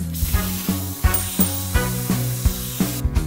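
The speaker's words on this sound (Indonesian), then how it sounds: "yuk kita coba semprotan air beras ajaib ini" A magic rice water spray bottle is pumped again and again in a steady, quick rhythm of short, close hissing spurts, with no voices.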